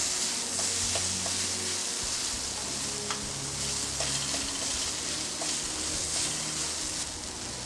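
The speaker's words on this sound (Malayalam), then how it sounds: "നന്നായി ഇളക്കി കൊടുക്കുക. സവാളയിലെ വെള്ളമെല്ലാം വറ്റി വരുന്നുണ്ട്." Onions frying in a pan as they are stirred to cook down for beef cutlets, with a steady close sizzle and light scraping clicks from the stirring all the way through.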